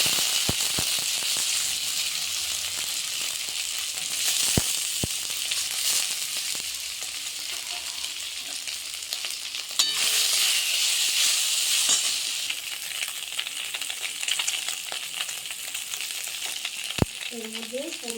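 Potatoes frying with black cumin in hot oil for Bengali potol dolma, a steady close sizzle and hiss with occasional stirring clinks, no talk.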